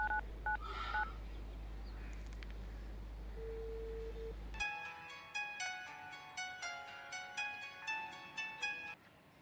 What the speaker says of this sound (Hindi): मेरे फ़ोन से कॉल करते हैं